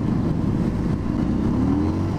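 A Cagiva Canyon motorcycle engine stuttering as the throttle is opened, heard as a close, continuous, uneven low engine drone.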